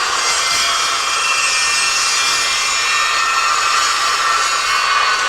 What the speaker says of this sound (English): So I put a piece in the saw, and now we're going to cut it.